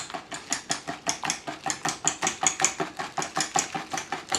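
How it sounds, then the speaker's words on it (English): Rapid rhythmic whisking of gluten-free flourless chocolate cake batter in a bowl, about four brisk strokes per second, close and steady throughout. "I'm going to give it a little whisk just to make sure we get a bit of air in there"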